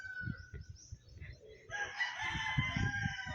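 A person imitates a rooster crowing during a playful vocal challenge, a strained, rising cock-a-doodle-doo cry that follows a few short choppy vocal bursts.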